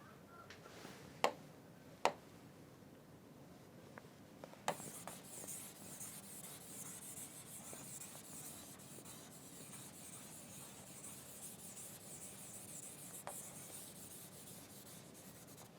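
Chalk or marker writing on a classroom board during a physics lesson on capacitors, with a few sharp taps followed by a steady soft scratching and rubbing, faint and continuous with no talk.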